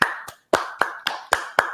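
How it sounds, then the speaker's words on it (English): Sharp, separate hand claps, about seven of them in a loose rhythm with brief gaps between, close and fairly loud. "Let's get a round of applause."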